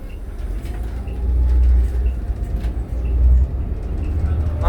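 Inside a 2014 New Flyer XD40 city bus on Calgary's route 9 toward Mount Royal University, a steady low engine and road rumble swelling and easing as the bus moves, with faint rattles and brief voices.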